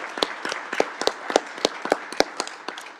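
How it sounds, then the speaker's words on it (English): A few people clap in a city council meeting room for a new youth liaison. The sharp, sparse hand claps ring out at an uneven rhythm, fairly close and with no one talking. "Members of the public, you can now add your applause to your new youth liaison for this year."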